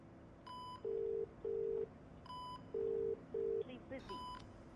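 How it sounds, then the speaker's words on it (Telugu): Telephone call tones sound during a phone call in a Telugu action film, with short repeated electronic beeps in uneven pairs and faint tonal signals between them, fairly quiet in the mix. "ఒకసారి ఫోన్ ట్రై చేయి."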